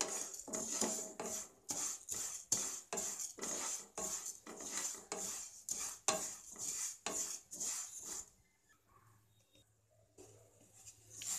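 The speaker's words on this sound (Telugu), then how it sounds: "మాడిపోకుండా రోస్ట్ అయ్యే విధంగా మనం సమంగా రోస్ట్ అయ్యే విధంగా రోస్ట్ చేసుకోవాలి." Wheat rava semiya being roasted and stirred in a pan, a spoon scraping and clinking against the metal in steady repeated strokes for about eight seconds, then a quieter pause with faint background hum.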